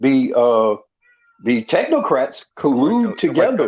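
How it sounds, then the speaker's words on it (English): A pet cat meows in the background, a few drawn-out cries sounding between and beneath a man's steady speech in a room. "That's my cat. That's my cat in the background."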